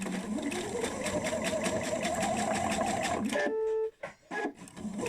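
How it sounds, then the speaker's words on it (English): A sewing machine runs with a steady mechanical whir, then stops and a few short electronic beeps sound. "that's the sound of my bobbin telling me it's low"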